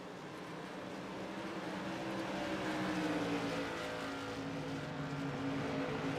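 Modified race cars at IRP roaring into a corner, a thick continuous engine drone that swells gradually as the pack approaches, loud and steady with no break.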